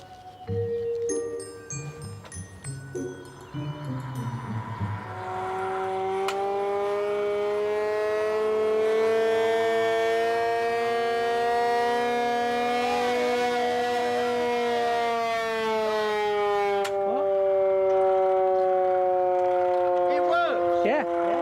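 An alarm siren sounds its full alarm at a dealer's premises, rising and wailing loud and steady for about fifteen seconds after a brief chime-like start, with faint voices at the beginning.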